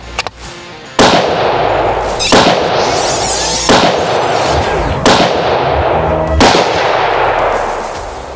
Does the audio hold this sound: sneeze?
no